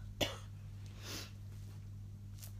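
A single short cough sounds near the start, faint and muffled over a steady low electrical hum in a quiet room, followed by soft breathy noise.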